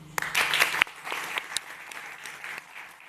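Applause from a conference audience for a panel on talent retention: a brief burst of clapping that thins quickly into scattered, sparser claps fading away.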